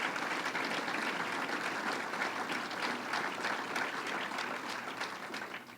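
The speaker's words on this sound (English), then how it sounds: "Let's give him a round of applause" A large crowd at the Great New York State Fair gives sustained, dense applause that stays loud and even, then eases slightly at the end, with no voices over it.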